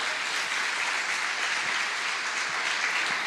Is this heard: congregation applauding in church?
yes